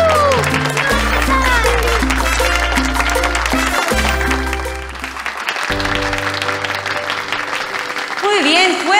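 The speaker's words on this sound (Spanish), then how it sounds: "Fuerte las palmas para nuestras niñas de primer grado de primaria" Audience applause for first-grade schoolgirls at a dance competition, a steady crowd clapping that runs the whole time beneath loud music with a strong bass line, dipping briefly partway through.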